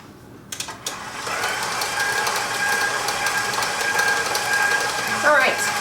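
An electric mixer beats sugar and butter for cupcake batter, a steady close whirring drone that starts after a few brief knocks and runs on unbroken.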